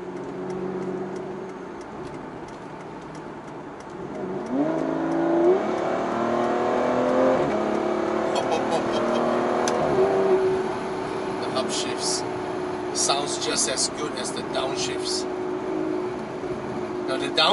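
A sports car engine drones low, then revs through rising pitch sweeps as it shifts, with a voice speaking briefly over the engine noise.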